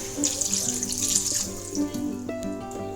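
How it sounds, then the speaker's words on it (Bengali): Hot water poured from a container onto a mixed spice paste in a home kitchen, a steady splashing pour running for about three seconds at close range, with no voices. "একটুখানি গরম জল দিয়ে দিলাম"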